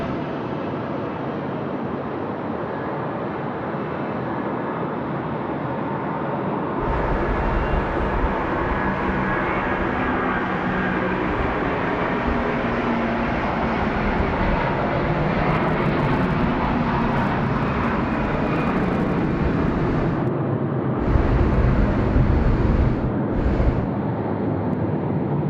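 A Xanadu airliner rolls for takeoff on runway 34 left at Sydney Airport at night, its engine roar rising sharply and holding as a loud, continuous rumble with no voices.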